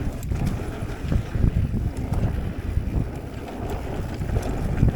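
Low, rumbling wind buffeting a chest-mounted camera on a mountain bike trail ride on a sunny day, a steady close roar with no talking.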